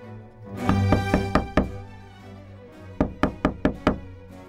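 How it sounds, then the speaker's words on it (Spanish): A door knocker strikes wood in two quick runs of five sharp, loud, close raps separated by a pause, with a low rumbling tone under the first run. "A pocos minutos se escuchó tocar el aldabón."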